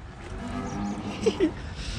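Cows lowing on turnout day as they head out to pasture, two short moos rising over a steady low background of farmyard noise.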